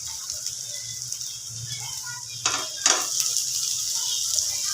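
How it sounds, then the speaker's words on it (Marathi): Onions frying in oil until crispy brown for prawn biryani, a constant hissing sizzle with a couple of louder scraping stirs midway, up close and without speech. "तेलावरती भाजत त्यांना क्रिस्पी होईपर्यंत चॉकलेटी ब्राऊन करायचे."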